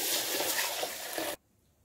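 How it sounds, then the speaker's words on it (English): Water is poured into a pot of parboiled long-grain rice in a steady, loud, close rushing gush lasting just over a second, then it stops abruptly into near silence. "I add in water to top it."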